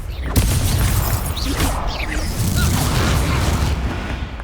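A Confringo fire spell blast in the Hogwarts Legacy video game duel, a loud booming explosion with whooshing crackle that rolls on steadily for several seconds, with faint game sounds behind.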